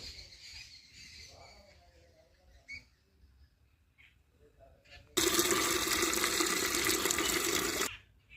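Water is poured into a container in a loud, splashing rush that starts abruptly and stops about three seconds later, after a quiet stretch with faint birdsong and a few small knocks.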